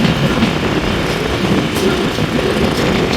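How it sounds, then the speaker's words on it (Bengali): Train rumbling steadily as it pulls out of Bakunda railway station between Faridpur and Bhanga, a continuous loud broadband roar of wheels and carriages with no pauses. "এক মিনিট যাত্রা বিরতি দিয়ে বাকুন্ডা রেলওয়ে স্টেশন ছেড়ে গেল।"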